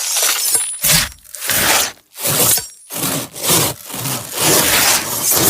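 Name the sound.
knife being sharpened sound effect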